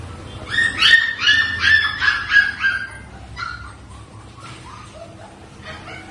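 German shepherd puppies yip and bark in a quick, fairly loud burst of overlapping calls, then settle into softer, scattered whimpers and whines close to the microphone.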